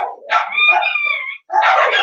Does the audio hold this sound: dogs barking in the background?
yes